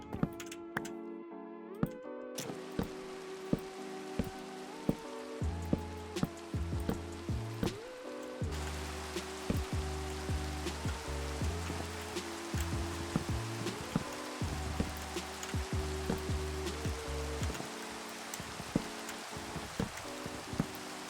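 Soft, steady pattering rain in Minecraft falls throughout, accompanied by quiet tonal music and occasional clicks.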